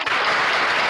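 A brief burst of audience applause, dense and even, with many hands clapping steadily throughout the short moment.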